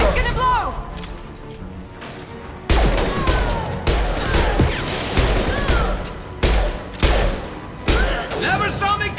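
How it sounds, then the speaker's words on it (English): An impact shot fired and exploding in Mass Effect 2 Legendary Edition on PC, a series of loud, abrupt blasts and crashing hits separated by short gaps, with gunfire and combat clatter in between. "Firing an impact shot! Gonna blow!"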